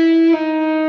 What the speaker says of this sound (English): we're gonna do a half step bend, which would sound like this